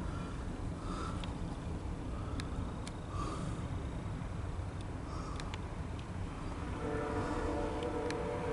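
A CSX local freight train of around 40 axles passes with a steady rolling rumble, mostly distant and fairly faint, with a horn note rising near the end.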